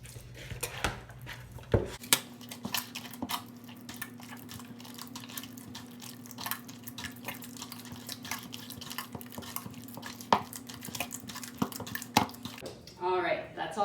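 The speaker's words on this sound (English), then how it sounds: "I just mix with my hands to get it all incorporated into the dough." Focaccia dough is worked by hand in a bowl, giving soft, wet squelching and slapping sounds at an irregular pace, with a low hum beneath and a voice talking briefly at the end.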